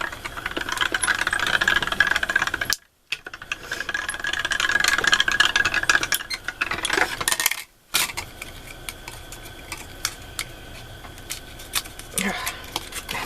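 A die cutting machine working on earring tags with a stuck die gives off a steady metallic rattling and grinding hum, broken by two short silences, with scattered clicks and taps toward the end and voices talking over it.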